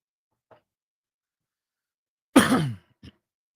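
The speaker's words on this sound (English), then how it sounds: "I should probably not turn my mic on to cough." A single harsh cough or throat clear close to a studio microphone, loud and abrupt after near silence, with a faint click before and a small follow-up sound after.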